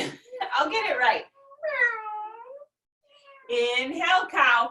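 A close, clear human voice mimics a cat's meow during a family yoga cat pose, giving one long wavering meow between bursts of spoken instruction.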